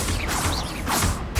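A Confringo fire spell cast in Hogwarts Legacy, a short dense burst of crackling mechanical whoosh and impact that stays loud across its brief length, with no talk.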